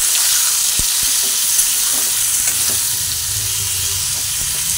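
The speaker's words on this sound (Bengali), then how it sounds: "আমি পেঁপেটা আলাদা করে ভেজে নিচ্ছি" Papaya pieces frying in hot oil for a Bengali vegetarian chal pepe dish, a steady dense sizzle throughout with a few faint utensil taps, close and fairly loud, no voices.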